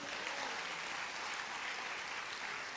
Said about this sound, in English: give Jesus a great big hand clap